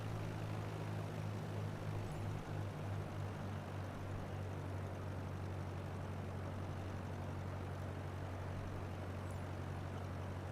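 Prop aircraft engine drones steadily in Microsoft Flight Simulator 2020 on a training flight's base leg, a continuous low hum with buzzy harmonics and a slight wobble early on, then an even, unbroken note with no talk.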